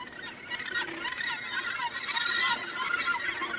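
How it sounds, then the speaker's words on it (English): Gannets call at a crowded breeding colony, a dense chorus of harsh, overlapping honking cries at moderate distance, continuous and rising slightly toward the middle. "The gannets are coming home after fishing."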